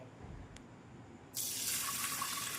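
Quiet room tone, then a tap suddenly gushes water steadily into a vessel for washing lentils, a close, continuous splashing rush with no talking.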